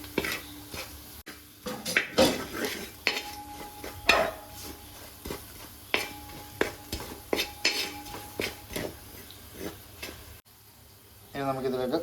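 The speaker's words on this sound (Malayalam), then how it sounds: "ഇനി എല്ലാം കൂടി ചേർത്ത് നല്ലതായിട്ട് മിക്സ് ചെയ്യാം." A spoon stirs chili, pepper and turmeric powder into kera fish pickle, producing repeated close scrapes and clinks against the dish in an uneven rhythm, with a light sizzle underneath and a brief moment of talk at the end.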